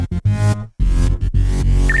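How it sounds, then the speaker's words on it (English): Choppy electronic glitch effects in a produced music track: abrupt stuttering cuts and gated bursts of dense synth tone with hard dropouts between them, loud and alone, ending with a brief high chirp. "Where there's nothing playing, we're gonna go ahead and add some glitches."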